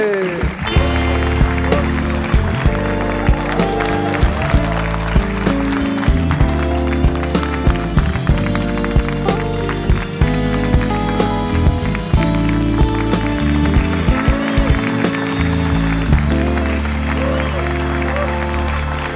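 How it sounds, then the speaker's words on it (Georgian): A studio audience on a late-night show applauds the arrival of guest Achiko Meparidze, its clapping blending into loud, steady music that runs throughout. "ჩვენთან სტუმრად მოვიდა აჩიკო მეფარიძე, მეგობრებო, აპლოდისმენტები მხურვალე"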